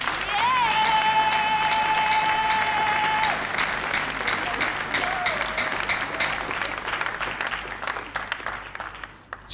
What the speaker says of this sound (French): Nous applaudissons pour lui.